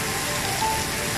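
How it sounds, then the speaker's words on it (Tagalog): Steady heavy rain falls continuously near the National Stadium in Singapore, a dense, even hiss of drops on surfaces with no breaks and no voices. "Ang ulan."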